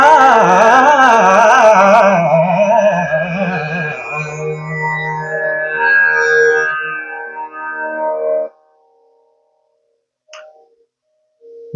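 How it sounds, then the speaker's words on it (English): A voice sings a fast Indian classical taan, rapid wavering runs of notes that gradually settle into sustained tones before stopping abruptly, followed by near silence with a faint click. "And now my Taan sounds like this."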